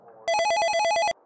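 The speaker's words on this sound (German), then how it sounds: "Euer Klingelton hört sich wie folgt an." Telephone ringtone from the Nintendo 1-2 Switch video game: a bright, rapid electronic warble of alternating tones pulsing about eight times in roughly one second, loud and alone.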